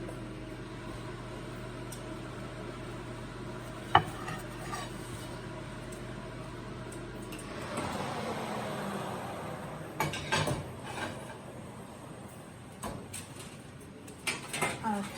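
Homemade pepperoni and cheese pizzas going into a home oven, with a few soft clunks and clicks of the door and pans over a steady low hum, close by and fairly quiet.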